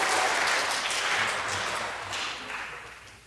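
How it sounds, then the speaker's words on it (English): An audience applauds its volunteers at a church talk, steady dense clapping throughout that tapers slightly toward the end. "Let's go ahead and collect one last round of applause for our volunteers."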